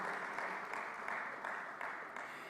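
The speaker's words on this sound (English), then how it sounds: "Please give them all a big round of applause." Applause from the audience at a startup and entrepreneurship summit in Goa, a dense, even wash of many hands clapping at moderate distance, steady and sustained with no individual claps standing out.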